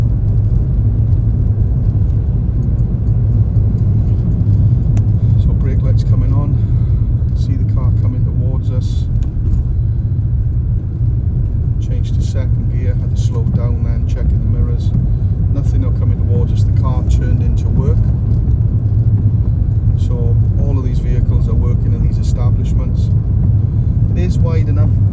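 Steady close engine and tyre rumble from a car driving a Swansea road test route past parked cars, continuous throughout, with a person talking over it the whole time.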